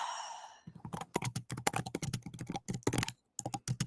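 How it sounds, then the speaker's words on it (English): Fast typing on a computer keyboard, a close, dense run of sharp clicks and keystrokes after a brief sigh, with short pauses between bursts. "excuse the typing."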